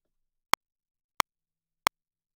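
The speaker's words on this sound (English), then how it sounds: "So we're going to be able to hear our metronome." Three sharp, evenly spaced electronic clicks from a Studio One software metronome sound against silence, crisp and close.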